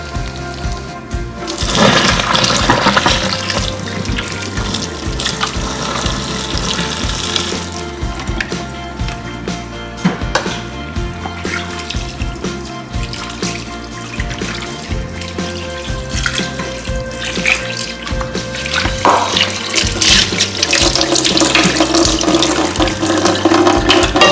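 Boiled beef short ribs for Korean galbijjim are drained, then cold tap water runs into the pot in the sink. A loud, steady rush of running water with splashing continues throughout, with no talking.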